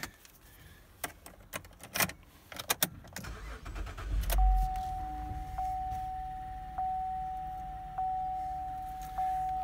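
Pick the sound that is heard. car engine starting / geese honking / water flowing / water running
car engine starting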